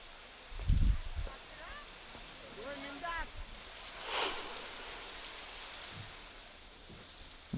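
Heavy monsoon rain falls in Gadchiroli, a steady hiss of downpour under voices, with a couple of low thumps early on.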